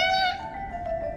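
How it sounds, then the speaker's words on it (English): A cat meowing in the war game 11-11 Memories Retold, a single short, clear, close meow that tails off after about a second. "Why is that cat meowing?"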